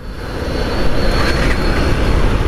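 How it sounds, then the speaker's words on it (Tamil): A 2025 Suzuki Access 125 scooter's engine starts and settles into a smooth, low, steady hum that swells slightly, close and fairly loud, with no voices over it. "வண்டி ஸ்டார்ட் பண்ணும்போது பார்த்திங்கன்னா லைட்டான ஒரு வைப்ரேஷன்ஸோடு தான் ஸ்டார்ட் ஆகுது"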